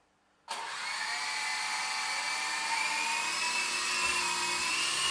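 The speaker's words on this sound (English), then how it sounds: "So we need to start the back motor up first." Motors of an RC model of the Ingenuity Mars helicopter spin up abruptly from silence into a loud, high-pitched, steady whine that holds close and constant.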